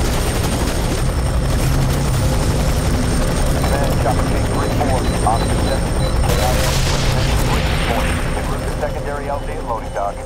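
A helicopter in the shooter game F.E.A.R. 3 roars with a loud, steady rotor drone throughout, joined by distant booms and gunfire and a radio voice speaking over it.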